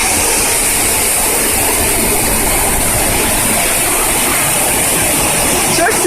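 A waterfall at a petting zoo roars in a loud, constant broadband rush, close and unbroken from start to finish.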